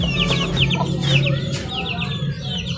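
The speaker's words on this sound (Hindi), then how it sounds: "और ये है वियतनाम की ब्लैक मुर्गी जो मैंने आपको बताया था ना।" Vietnamese black chickens cluck close by in a short burst of quick, repeated clucks and chatter from more than one bird, over a low background hum.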